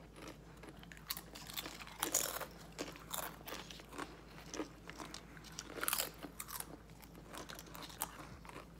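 Crunchy Takis and Nacho Doritos chips being bitten and chewed up close, loud irregular crunches and crackles repeating over several seconds, with faint bag crinkling and no talking.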